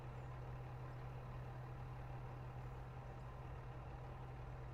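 A vehicle engine in the mining game Out of Ore drones at a steady low idle, very quiet and unchanging, with no other sounds over it.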